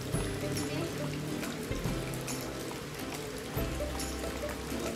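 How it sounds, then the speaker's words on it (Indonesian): Steady rain falls at night over an outdoor cooking spot, a continuous hiss with dripping and trickling mixed in, and a voice speaks faintly over it. "Hujan guys."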